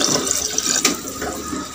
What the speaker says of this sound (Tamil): 2 டம்ளர் தண்ணி சேர்த்திக்கலாம்.